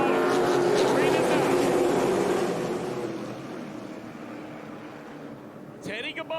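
Late model stock cars race at Jennerstown Speedway, a loud sustained engine roar filling the first half, then fading and thinning as the field passes, with a brief burst of renewed engine noise near the end.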